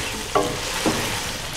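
Chicken karahi masala frying in oil, a steady close sizzle with two brief scraping stirs of a spoon through the thick mixture.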